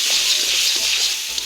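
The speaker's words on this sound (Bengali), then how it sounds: "তো আমি তারপর এটা কষাই দিলাম মশলাটা।" Spice paste (masala) for a bean and lentil curry frying in a pan, with a continuous bright hiss of sizzling oil up close and a few soft stirring knocks, with no talking.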